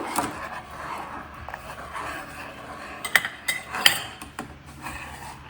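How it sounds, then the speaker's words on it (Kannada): Cornflour slurry being stirred into ras malai milk in a pot, with soft scraping and light clinks of a spoon against metal, a few sharper taps standing out from a low, steady background. "ಈಗ ಈ ಕಾರ್ನ್ಫ್ಲೋರ್ ನೀರನ್ನ ನಿಧಾನಕ್ಕೆ ಹಾಕ್ತಾ ಮಿಕ್ಸ್ ಮಾಡಬೇಕು."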